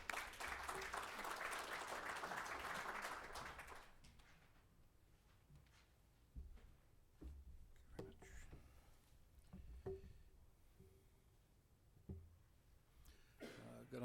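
Audience applause welcoming a speaker to the stage at an annual planning forum, a dense steady clapping that stops after about four seconds, followed by quiet room noise, footsteps and small knocks.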